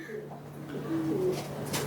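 Pigeons coo close by in low, soft, rolling calls, with a couple of murmured coos over a quiet background and some faint rustling near the end.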